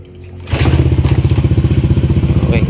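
A Honda Beat scooter with a shorted CKP sensor wiring fault is kick-started after a quiet moment and catches at once, settling into a loud, close, rhythmic single-cylinder idle with fast even pulses.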